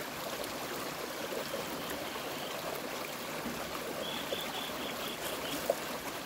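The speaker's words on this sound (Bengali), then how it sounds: "পাইপগুলো দিয়ে জল পাস করে পানি দিচ্ছি" Water flows out through pipes in a continuous, gentle rushing trickle, steady and fairly quiet throughout, with a faint higher tone and small splashes near the end.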